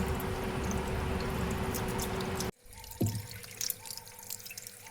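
Water runs from a tap over aloe vera leaves as they are washed, a steady close splashing that cuts off abruptly midway, leaving a few soft drips and small handling sounds.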